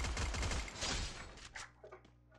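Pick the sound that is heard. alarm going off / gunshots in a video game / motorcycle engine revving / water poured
gunshots in a video game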